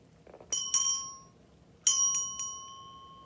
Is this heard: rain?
no